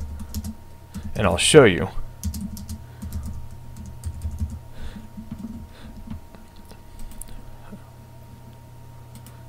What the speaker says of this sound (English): let's type a word